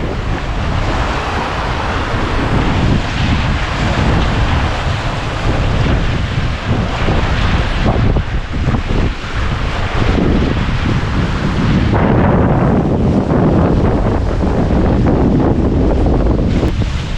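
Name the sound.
strong wind and heavy sea swell while sailing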